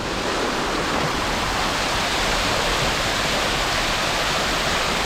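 Steady, dense roar of falling water from a curtain waterfall at a water facility in Bangkok, loud and close, continuous with no pauses and no voices.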